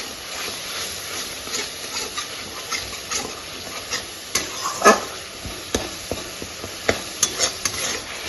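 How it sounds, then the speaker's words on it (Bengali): Jackfruit kofta mixture cooked with sour yogurt in a pan, stirred with repeated scraping strokes and sharp clicks of the utensil over a soft hissing sizzle, close by with no speech. "টক দই দিয়ে কিছুক্ষণ নাড়াচাড়া করে"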